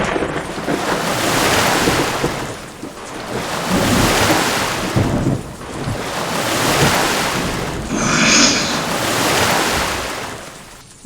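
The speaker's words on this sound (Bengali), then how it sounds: "মা মণিমালা কেমন লাগছে সমুদ্রে এত সুন্দর মনোরম পরিবেশ আমি কখনো দেখিনি" Animated scene of a sailing ship at sea: ocean waves surge and wash in slow repeating swells under steady gusting wind, loud and close, with no voices.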